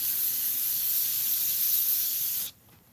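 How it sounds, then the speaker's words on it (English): Steady hiss of spray paint on synthetic paper, continuous and fairly close for about two and a half seconds before cutting off abruptly into quiet. "Now it's going to get darker as I spray"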